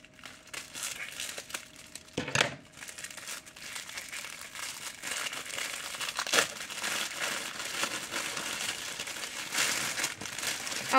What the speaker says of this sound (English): I'm gonna have to use my scissors.